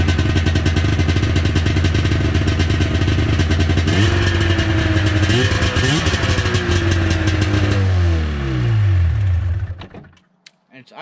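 A cold Ski-Doo Formula 500 snowmobile engine runs loud and steady at a high idle, with clattering and pitch shifts, then cuts out abruptly near the end.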